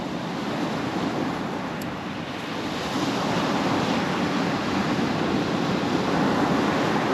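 Strong wind blows across a shoreline beside the water, a loud, steady broadband roar buffeting the microphone, with surf mixed in and no letup.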